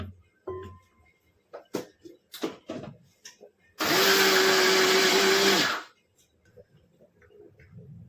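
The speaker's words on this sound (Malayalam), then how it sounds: "ചെറുതായിട്ടൊന്ന് അടിച്ചു തേങ്ങ കൂടെ ഇട്ട് നന്നായിട്ട്" A kitchen mixer grinder whirs loudly for about two seconds, blending grated coconut with other chutney ingredients in a Kerala home kitchen, set between quieter clicks and handling sounds.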